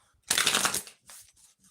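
A tarot deck with a cat theme is riffled once in a quick, crisp burst, followed by a few softer card taps and shuffles, close and alone.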